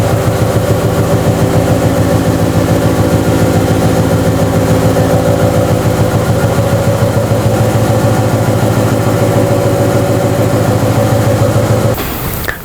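ATEX pneumatic drum mixer churning a 200 litre drum, a loud, steady mechanical drone with a rapid pulsing, engine-like rhythm that runs continuously before cutting off abruptly near the end.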